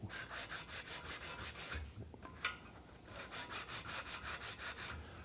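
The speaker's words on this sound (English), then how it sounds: "let me grab the file and the sanding cloth and we'll just go through that" Close, steady back-and-forth rasping of a file and sanding cloth on a cast iron engine bearing cap, in light regular strokes with a short pause midway before resuming.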